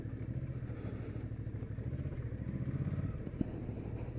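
Suzuki V-Strom 650 XT motorcycle ridden off-road across a lawn, its engine a steady, close rumble with a thump near the end.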